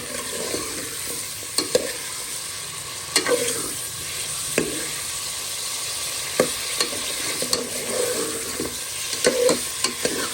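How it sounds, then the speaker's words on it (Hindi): Mutton being fried in a pot while a spoon stirs it: a continuous close sizzle broken by repeated clinks and scrapes against the pot at an uneven rhythm, with no talking. "इसको अब हमने कलर चेंज होने तक हमने इसको भूनना है"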